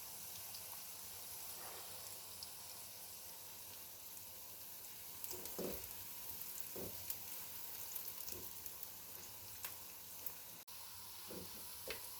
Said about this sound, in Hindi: ये तो भाई ये प्याज ब्राउन हो रहे हैं, बल्कि हो चुके हैं।